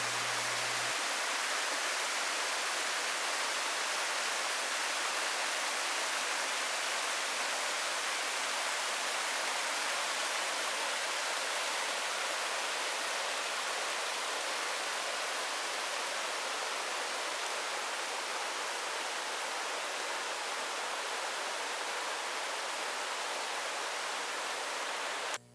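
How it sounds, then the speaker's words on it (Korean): A clear mountain valley stream in Bukhansan, swollen by the rainy season, rushes continuously as a steady, full hiss of flowing water heard close and alone. "장마철이라 계곡 상류에도 시원하고 맑은 계곡물이 많이 흐르고 있습니다"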